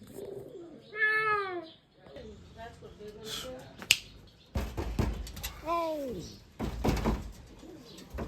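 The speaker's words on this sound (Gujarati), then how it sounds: "હવે મૂકી આવીએ જગત બિલાડાને" A cat meows a few times, rising-and-falling cries close by, mixed with other scuffling noises and a sharp click.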